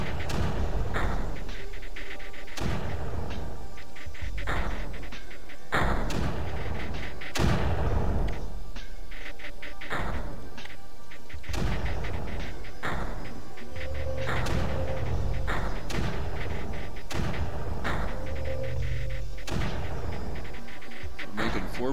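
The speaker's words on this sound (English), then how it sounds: "Thank you, mortar." Mortar fire in Creeper World, a string of heavy booming shots at irregular intervals across the whole stretch, each with a sharp thump and decaying rumble, over a continuous game music bed.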